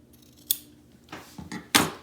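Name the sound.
fabric scissors cutting felt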